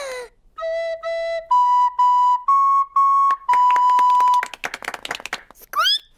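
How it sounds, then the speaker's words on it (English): A recorder plays a short run of sustained, steady notes, each held briefly before stepping to the next, ending with some clattering and a high vocal squeal, in a Peppa Pig cartoon. "I'm going to play the recorder."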